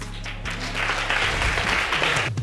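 Broad, steady applause from a studio audience at a courtroom show's paternity reveal, building slightly after the first half-second and holding dense and loud throughout.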